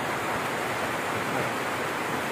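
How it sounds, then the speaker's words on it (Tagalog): Steady rain falling outdoors during a cross-country motorcycle loop ride in Barangay Lucero, Capiz, a dense continuous hiss with no gaps, close and fairly loud, no talking. "At naabutan tayo ng ulan."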